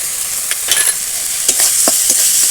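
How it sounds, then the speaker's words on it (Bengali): Masala spices with a splash of water and a pinch of salt frying in a pan for an egg and potato curry; a loud, close hiss of sizzling oil with repeated stirring strokes scraping through it. "মশলাটা এবার ভালো করে কষাবো"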